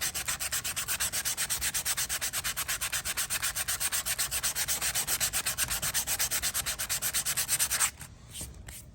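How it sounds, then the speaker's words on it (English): Heavier-grit sandpaper scrubbed back and forth across a wooden peg in fast, even strokes, a loud, close rasping rhythm that stops abruptly near the end, leaving a few faint touches. "take a heavier grit sandpaper, kind of lay it down and kind of go back and forth, going from edge to edge"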